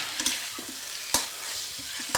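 Onions stir-frying in hot oil in a wok for Mongolian beef, a steady close sizzle with three sharp clanks of the spatula scraping and stirring, no voices.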